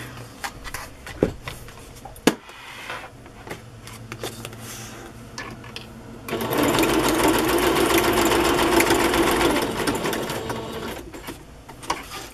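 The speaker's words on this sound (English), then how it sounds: "let's sew this stuff on and see where we are from there" A sewing machine stitches paper tags onto a handmade chocolate-themed journal. Quiet handling and clicks come first, then a few seconds of close, steady whirring stitching that stops again.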